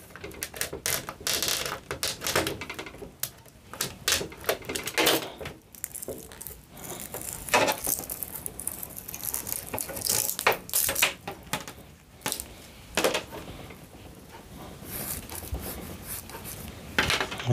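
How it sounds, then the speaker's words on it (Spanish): Coaxial cable being stripped by hand for a homemade TV antenna, giving steady scraping, rubbing and clicking noises that run on without a break and without any voices. "Y ahora vamos a pelar todo este coaxial."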